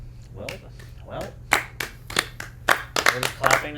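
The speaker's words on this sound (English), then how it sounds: "We're just clapping now." A few people clapping hands in a small room, scattered then quicker claps building toward the end, with voices and laughter underneath.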